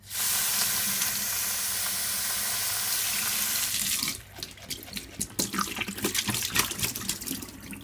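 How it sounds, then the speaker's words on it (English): Tap water running into a container as radish sprout seeds are rinsed, a loud steady gush for about four seconds, then close sloshing and swirling splashes of seeds in water. "And quickly swirling them around."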